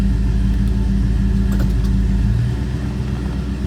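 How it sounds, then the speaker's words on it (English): A 1974 Chevrolet Blazer drives along with a heavy, low engine rumble that stays loud and close, then eases slightly near the end. No talking is heard. "our next thing is to drive it and see how it feels"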